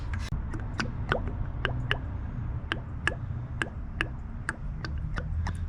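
Used oil drains from a car during an oil change, a low liquid trickle with scattered small drips and ticks throughout, faint and close, with no talking.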